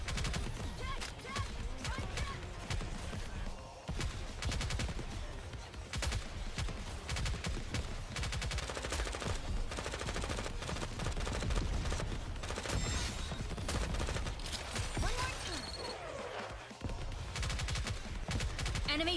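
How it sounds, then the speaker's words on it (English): Gunfire from a whole party shooting at once in the Honkai Star Rail video game, a dense, sustained barrage of rapid shots with brief lulls, loud and close. "Everyone's firing all at once"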